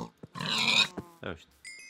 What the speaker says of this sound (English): let's just kill this pig just for the hell of it